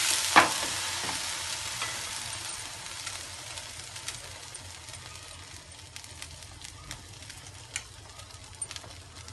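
Milk-dipped snack pieces frying in a pan give a continuous close sizzle and crackle, with a sharp clatter at the start and occasional light pops.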